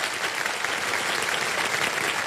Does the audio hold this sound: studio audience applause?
yes